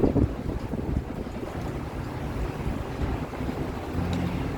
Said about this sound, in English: It's very strange because it's a west wind. Wind is definitely coming out of the west.